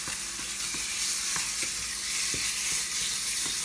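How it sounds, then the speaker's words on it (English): Tomato paste browning with garlic in a pan for spaghetti sauce, giving a steady, close sizzle with occasional soft stirring scrapes and pops throughout, no talking. "And I brown the paste"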